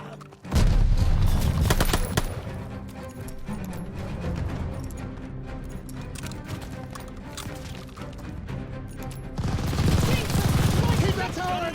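Battlefield gunfire in Call of Duty Vanguard, with a machine gun firing from a tower: a sustained, loud rattle of rapid shots that carries through the whole stretch and swells again near the end amid heavy combat noise.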